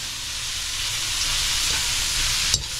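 Shrimp frying in a pan, a steady close sizzle that holds evenly throughout, with a brief clatter near the end.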